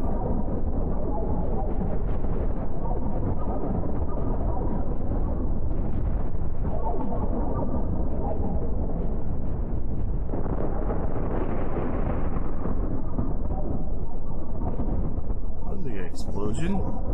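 A spaceship blows up in the space combat game Cosmoteer, heard as a sustained rumbling, crackling blast with deep booming surges that swell and recede, followed by faint high electronic blips near the end.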